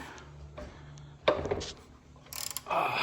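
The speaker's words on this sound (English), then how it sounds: "take your ratchet or your wrench in a 16mm socket or wrench, and you're just going to want to go ahead and remove the drain plug" A ratchet with a 16mm socket loosens the oil drain plug on a 2008 Ford Mustang GT, giving a few close, sharp clicking bursts against a quiet background with no talking.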